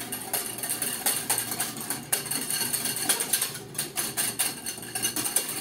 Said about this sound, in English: And then you're going to want to whisk it up.